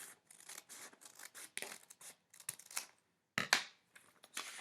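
Scissors snipping through folded paper for a pop-up art project, a run of short crisp cuts in irregular bursts with brief pauses, close and fairly quiet.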